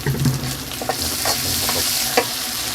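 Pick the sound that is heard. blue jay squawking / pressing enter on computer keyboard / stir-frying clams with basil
stir-frying clams with basil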